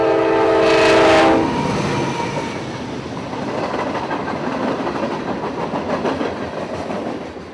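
Northbound Q452 freight train passing with a loud horn blast early on, then a steady rumble of rolling cars with faint rhythmic clicking over the rails, close by.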